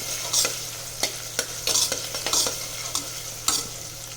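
Potato pieces fry in a pan until brown for garlic khichdi, giving a constant close sizzle. Regular scraping strokes from a stirring spoon cut through it.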